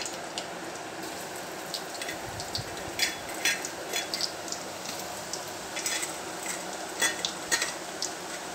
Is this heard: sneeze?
no